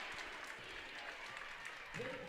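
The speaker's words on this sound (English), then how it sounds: "And the G-Town crowd starts up." Crowd applause and cheering from spectators at a Germantown versus Bay Port girls basketball sectional semifinal, a steady wash of clapping throughout with a commentator's voice over it.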